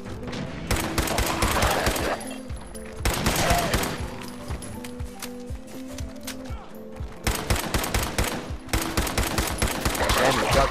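Rapid bursts of gunfire from the video game Fallout 4 on PlayStation 4, loud volleys of machine-gun fire with short pauses between them, layered over a droning game soundtrack.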